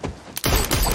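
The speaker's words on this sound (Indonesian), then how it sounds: "Alex ditembak oleh May" A gunshot in an action film scene, a sudden loud blast about midway that is followed by dense, sustained noise with no pause.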